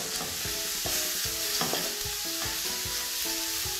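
Shiitake mushrooms and bacon sizzle in a pan, with a steady bright hiss broken by quick, rhythmic scrapes and clacks of a spatula stirring them, close and alone.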